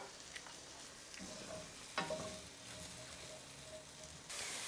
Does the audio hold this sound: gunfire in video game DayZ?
no